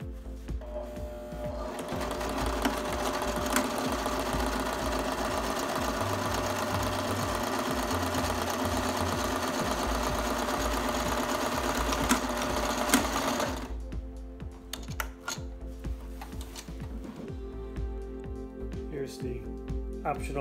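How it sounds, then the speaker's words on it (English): A sewing machine stitches Velcro onto a van cushion, a steady close mechanical whirring with rapid needle clatter running for about twelve seconds before slowing into softer intermittent stitching and handling sounds. "Now I'll take out the cushion and sew it on."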